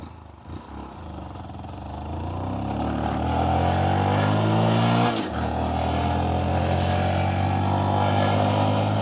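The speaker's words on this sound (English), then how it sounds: "Starts and idles normal." Motorcycle engine starting and settling into a steady idle, close and alone, on a bike with a check engine light lit and a slight surging, with the pitch climbing briefly before holding even.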